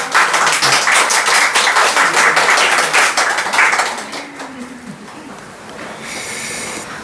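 A church congregation claps in rhythm during a Sunday service, loud and close for a few seconds, then the clapping thins and fades, leaving a quieter hum of the room.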